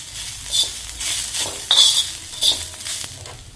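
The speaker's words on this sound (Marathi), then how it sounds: "एवढा कांदा भाजला की आपल्याला काढून घ्यायचा" Onion frying in a pan while cooking a Maharashtrian katachi amti, a steady sizzle with spoon stirring and a couple of sharp metallic scrapes against the pan.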